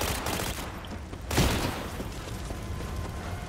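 Sustained gunfire and booming in the video game Cyberpunk, a dense continuous barrage with one heavier blast partway through, loud and steady throughout.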